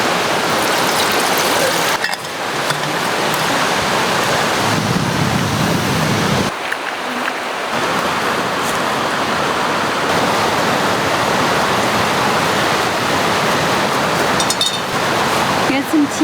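Creek water rushes and splashes steadily beside a backcountry trail in Alaska, a loud, close, continuous wash that carries through the whole stretch with only brief shifts in its texture.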